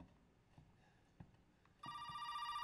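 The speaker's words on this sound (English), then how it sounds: "That fucking phone is gonna give me a heart attack." A telephone rings in the horror video game Resident Evil 7, starting as a loud, sustained electronic ring partway through after a quiet, low ambient stretch.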